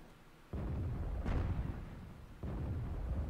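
A tank cannon shot from a Hellcat in the TOG2 video game, a heavy boom that jumps up and then rumbles on for a while, followed by a second blast about two seconds later.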